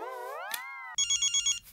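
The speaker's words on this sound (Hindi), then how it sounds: "माधवी का फोन है" A telephone rings indoors with a bright electronic trill, a rapid burst of five pulsed rings after a short stretch of sliding musical tones.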